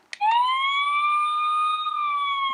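A Playmobil City Action 5362 toy fire truck siren wails steadily after a brief click, a single sustained electronic tone holding loud and close for a couple of seconds.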